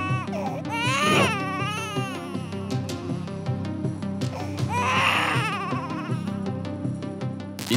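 A recording of an infant crying, played back from tape in a public reaction experiment: loud, sustained wailing cries with rising and falling pitch, continuous throughout over a faint background hum.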